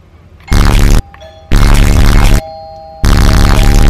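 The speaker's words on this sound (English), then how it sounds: "But now no one's home, so we can ring this doorbell." An apartment doorbell buzzes loudly in three harsh, sustained bursts with short pauses between them, close by and unaccompanied.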